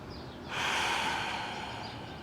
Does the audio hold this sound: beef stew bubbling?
no